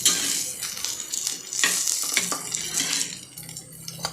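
Taro root (colocasia) pieces frying in masala in a pan, giving a steady, close, broadband sizzle with occasional stirring clatter throughout, no talking.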